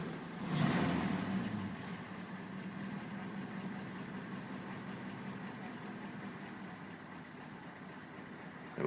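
A 1934 Packard Super 8 coupe starts up and settles into a smooth, steady idle, a low continuous engine rumble that swells briefly at startup then holds evenly, moderately close with no talking.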